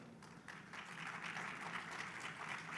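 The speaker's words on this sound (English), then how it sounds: "A round of applause for" Steady applause from a crowd, moderately loud and continuous for a few seconds, with a faint voice underneath.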